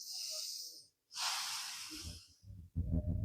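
Forceful breaths during a yoga stretch: a strong hissing exhale, a brief pause, then another long rushing breath, followed by a lower snort-like sound, close and loud.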